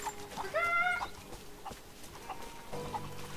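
A chicken in Rise of the Tomb Raider gives one short burst of clucking near the start, fairly faint over a low game ambience, followed by a couple of quieter scattered clucks.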